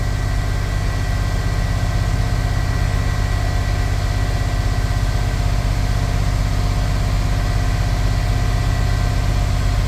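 A Chevy square body dually pickup with a 454 engine idles steadily and loudly on a cold start, with a deep, even rumble and a constant throb throughout, no voices.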